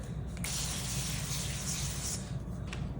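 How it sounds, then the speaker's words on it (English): A continuous close hiss of an avocado oil aerosol spray coating nachos, lasting a few seconds, with short breaks near the start and end. "Give them a nice coat of avocado oil spray."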